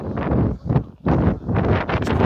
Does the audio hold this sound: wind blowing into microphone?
yes